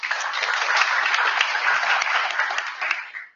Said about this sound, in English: So a big round of applause to Mateus